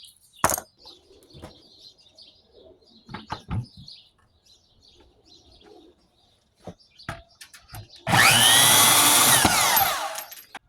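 Bandsaw cutting scrap steel pieces in a workshop, a loud dense rasping burst of about two seconds near the end, preceded by scattered clanks and handling knocks with birds chirping faintly in the background.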